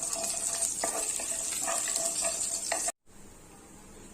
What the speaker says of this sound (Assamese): এইখিনি তেলতে কেইটামান কালজিৰাটো দি অকণমান